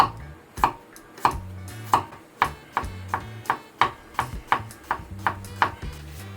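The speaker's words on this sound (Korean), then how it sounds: "다진 마늘을 좀 만들어 주도록 하겠습니다" A kitchen knife chops garlic on a cutting board to mince it, about fifteen crisp, evenly spaced knocks close by, the rhythm holding steady throughout with no talking.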